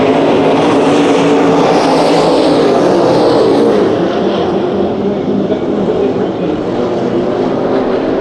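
Race cars roar around the Perris Auto Speedway oval during a heat race, a loud continuous engine drone from the pack filling the whole stretch, swelling slightly then easing as they sweep past.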